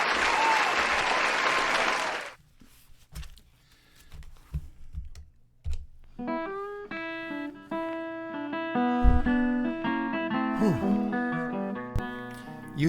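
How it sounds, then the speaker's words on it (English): Brief burst of applause for a radio program segment lasting about two seconds, then dropping away to sparse clicks before outro music with sustained tones takes over. "Round of applause for this effort to start with."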